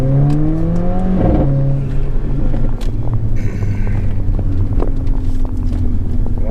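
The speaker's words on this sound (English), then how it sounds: "you can get it with the AMG performance exhaust" A Mercedes A45 AMG fitted with the AMG performance exhaust revs up close and loud, the engine note climbing sharply in one burst before settling into a throaty, rumbling idle.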